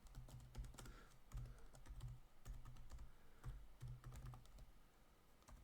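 Typing on a computer keyboard in a quiet room, a steady run of soft, close key clicks in uneven bursts with brief pauses, no voices.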